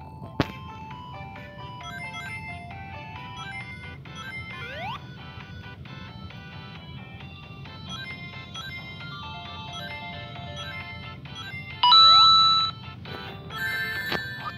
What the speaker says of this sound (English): stupid notification, it distracted me.